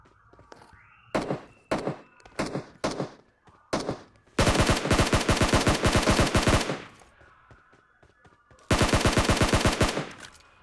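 Gunfire in a shooting video game where a Kar98 rifle is in use: several sharp, loud single shots spaced apart, then two long, rapid automatic bursts with brief quiet between them.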